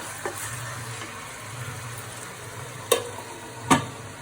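Carrot, capsicum and spring onions fry in a pan for vegetable fried rice, a low continuous sizzle broken by a few sharp metallic clinks and scrapes of a spatula.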